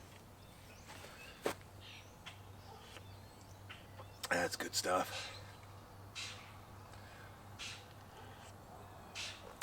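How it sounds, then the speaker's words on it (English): Birds call outdoors on a sunny, cool morning, with a few scattered caws and chirps near and far, including a louder squawking burst midway, while someone speaks briefly. "You can hear the birds chirping"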